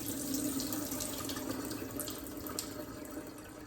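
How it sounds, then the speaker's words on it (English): Water running and gurgling as it drains from soaked sea moss in a sink, a steady close splashing flow with no talking. "Draining the water."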